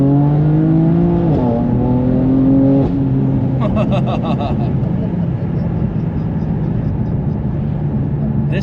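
A 2016 BMW M4 GTS engine revs loud and raucous from inside the cabin, pitch climbing under acceleration, dropping at a shift, then droning on with a steady roar.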